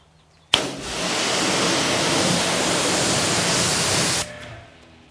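A pressure-washer-style water spray rinses foam off a car's paint, starting abruptly, hissing steadily and evenly for under four seconds, then cutting off sharply.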